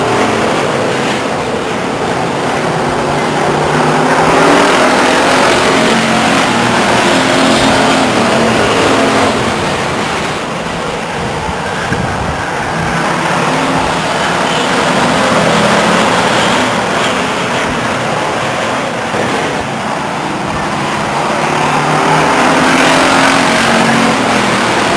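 Race cars at Stockton 99 Speedway roar through a turn on the white flag lap, a loud continuous engine drone that swells and fades as the pack passes, with no talk.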